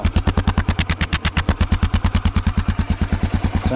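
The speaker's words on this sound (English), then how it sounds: "Listen to that exhaust." A Honda XR650L motorcycle exhaust chugs in a steady, loud, evenly spaced pulse at idle or low revs, each firing beat distinct and close, with no voices.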